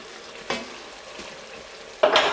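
Garlic hitting hot butter in a pan with rosemary and other aromatics for corn chowder, giving short bursts of sizzle, a soft one midway and a louder, sustained one near the end, with no talking.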